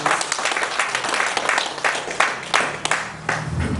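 An audience at a sports journalists' convention breaks into applause, a dense, moderately loud patter of many hands that swells and fades in waves, with a brief low voice near the end.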